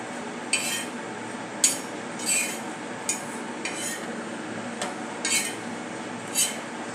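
Two to three spoonfuls of dried coconut being dry-roasted in a pan, heard as quiet, steady stirring with soft metallic scrapes and clinks of a spoon against the pan recurring roughly every second, with no talking.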